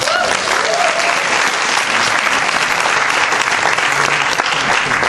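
Steady, dense applause from an audience at a business presentation, clapping continuously at an even loudness for about five seconds.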